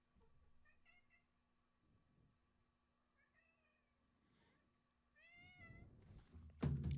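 A pet cat named Dusty meows several times indoors, short rising cries spread across the clip, moderately near, followed by a louder thump and rustle near the end.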